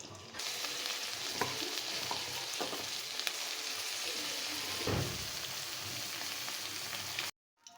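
Hilsa fish rubbed with salt and turmeric fry in a little oil, giving a steady close sizzle with occasional stirring scrapes and pops, then stopping abruptly at the end.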